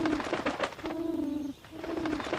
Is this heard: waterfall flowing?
no